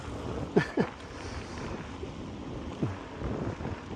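Steady wind rushing past a microphone during a bicycle ride with a co-worker, a broad continuous roar with a few short gusty bumps, loud and close throughout.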